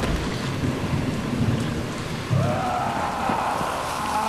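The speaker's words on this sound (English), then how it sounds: "This raining is crazy." Steady rain and a thunderstorm in the zombie video game Dying Light; a constant loud downpour with low rumbling thunder that swells partway through, heard alone without talk.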